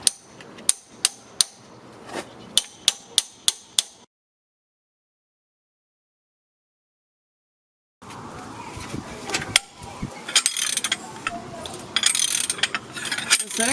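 A ratchet wrench works on the cylinder head bolts of a Toyota 22RE engine, first as a quick series of sharp clicks, then a pause, then a busier stretch of ratcheting and metallic clatter close by.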